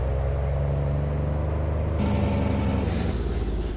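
A heavy 1990s truck in a Farming Simulator 22 mod brakes hard, with a steady low engine rumble, a sudden loud air-brake hiss cutting in midway and a sharper hiss of released air near the end.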